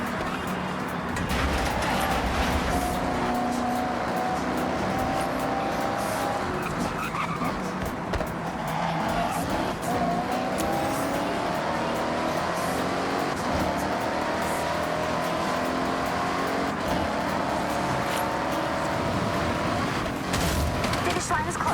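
Racing cars in the video game Forza Horizon 6 roar steadily throughout, with engine pitch rising and falling and occasional tire skids. The noise is loud and close, and no one speaks.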